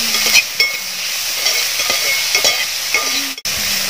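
Garlic, chilli and ginger paste is stirred with onions in a hot pan, producing a loud, steady sizzle broken by occasional spoon scrapes and knocks.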